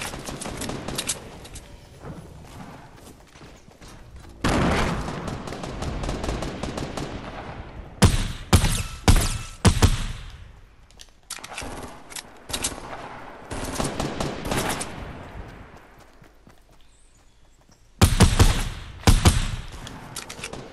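Gun in Fortnite firing repeatedly, loud rapid bursts of automatic gunfire that stop and start in several long strings, close and with little else around them.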